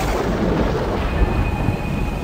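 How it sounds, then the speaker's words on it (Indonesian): Loud, rumbling thunder rolls steadily for a couple of seconds, a deep continuous boom with no voices. "terdengar geledek sangat keras"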